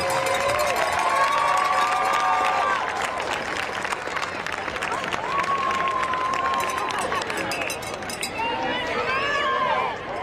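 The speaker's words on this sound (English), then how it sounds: "Let's have a big round of applause for all our senior football players and football managers." A crowd at a high school football game applauds and cheers for the senior players and managers, a dense roar of clapping and shouts that carries throughout, with an announcer's amplified voice over the top.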